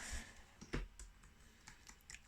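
A few soft, sparse clicks of keys being pressed on an HP 975 dual-mode wireless keyboard, quiet and close, with no voices.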